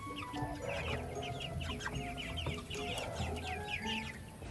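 Many broiler chickens cluck and chatter continuously in a noisy coop, overlapping calls at moderate distance with steady background din.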